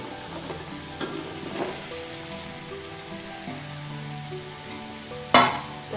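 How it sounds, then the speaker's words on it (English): Mushrooms frying in a pan while cooking mushroom pulav, a steady sizzle with light stirring scrapes and one sharp clatter near the end, over a soft tonal background. "Here I am adding the mushrooms."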